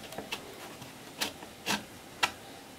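A carbon rod with a bolt on its end slides out of a brass tube on a Ziroli Corsair model aircraft, making several faint, brief scraping rubs spaced apart in a quiet room.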